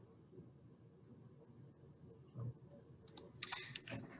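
Quiet computer keyboard typing: soft, scattered key clicks over a low room hush, rising into a quick cluster of sharper taps toward the end.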